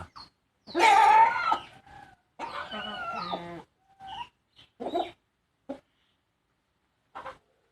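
A few chickens cluck and squawk in short bursts nearby, separated by quiet gaps, the first call loudest.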